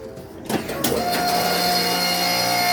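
A 20-ton hydraulic forge press starts up with a clunk and settles into a loud, steady mechanical hum and whine that continues without pause.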